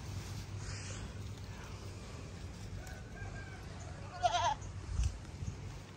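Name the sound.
goats on a small farm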